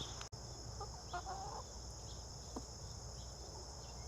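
Soft clucking from hens over a steady chirring of crickets or insects, with a brief sharp click near the start.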